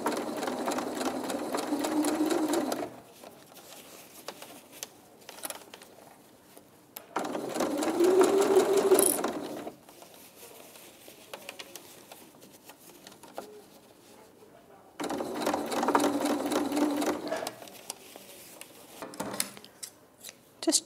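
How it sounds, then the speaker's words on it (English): A sewing machine stitches the hem of teddy bear dungaree legs in three separate bursts of fast, close whirring, with quiet fabric handling and faint clicks in the pauses between. "just stitch around the hem of the dungaree legs"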